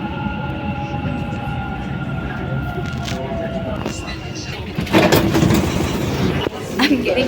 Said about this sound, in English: The final destination of this train is